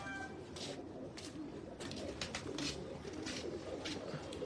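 Pet pigeons coo in repeated soft, low calls at close range, steady over a faint background hum, with no one talking.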